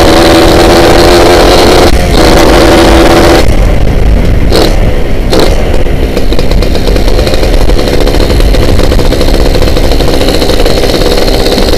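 A Suzuki Satria two-stroke motorcycle engine revs hard and loud, with a buzzing whine that climbs and dips through several throttle blips, then holds a sustained high rev.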